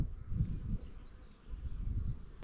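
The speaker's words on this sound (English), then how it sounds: "Have a look at the honey bees all over it." Honey bees buzz around flowering Grevillea bracteosa outdoors, a faint, soft drone that swells and fades in a few gentle waves, with a light click near the end.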